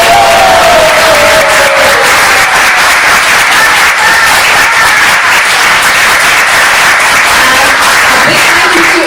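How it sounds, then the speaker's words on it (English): Steady, dense applause from a large audience fills the whole stretch, loud and continuous with a faint murmur of voices underneath. "So big high applause for the whole"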